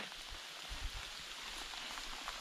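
Steady rain patters and hisses evenly throughout, soft and continuous, with no voices, falling during a campervan trip in Ecuador.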